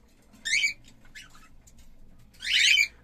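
Year-old cockatiels in a breeding cage chirping and squawking in short, harsh bursts, a couple of louder calls with softer twitters between, close by over a low hum.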